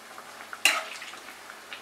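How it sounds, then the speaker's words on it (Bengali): Bread pakora sizzling in hot oil in a home kitchen, a sudden short burst of frying crackle followed by a softer steady hiss, fairly close and heard alone. "এবার আমি আঁচটাকে একটু বাড়িয়ে দিয়ে বাকি ফ্রাইটা করব।"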